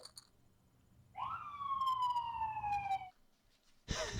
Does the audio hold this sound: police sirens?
yes